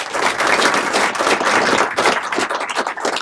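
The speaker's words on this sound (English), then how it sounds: "So please give them a big round of applause." A swearing-in ceremony audience applauds the agency's command team with loud, dense clapping from a sizable indoor crowd, sustained for a few seconds before thinning into scattered claps.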